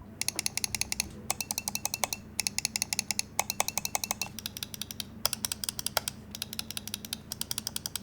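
Crisp, sharp Razer DeathAdder V4 Pro gaming mouse optical switch clicks in quick bursts, rapid and rhythmic, close and fairly loud over a faint background hum.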